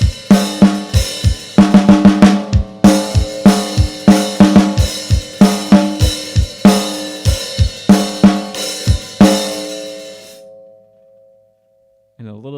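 A drum beat of kick, snare and hi-hat plays a steady, loud, punchy pattern of tight hits with ringing cymbal wash. It stops abruptly and lets a brief decaying tail fade before a short final tone.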